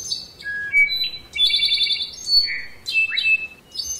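A goldfinch sings in the forest canopy of La Tigra National Park, with clear, bright whistled phrases and chirps in bursts over quiet forest ambience.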